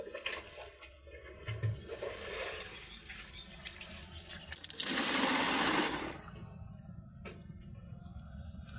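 Water drawn from a village well for cooking rice, with a steady trickle and splashing that swells into a loud rushing pour midway before falling back, and no voices.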